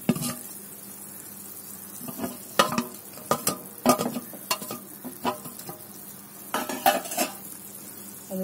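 Oil-fried pirandai dropped into boiling tamarind gravy in a pot and stirred, with a sizzling bubble underneath and irregular scraping and clinking of a spoon against the pan, close and fairly loud, no voices.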